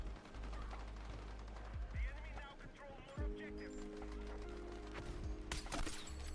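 Gunfire in the video game Battlefield 6: scattered sharp shots and short bursts, fairly quiet overall, sounding beneath a player talking.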